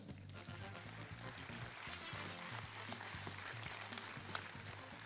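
Applause from a full hall of spectators at a sports awards evening honouring athletes in Digne-les-Bains, a dense, steady wash of many hands clapping, faint and distant, continuing without a break.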